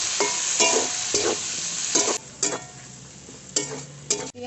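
Chopped onion, tomato and green chili with bay leaves in hot oil in a pan make a steady close sizzle, broken by repeated scraping stirs of a spatula at an irregular rhythm, in a village-style kitchen.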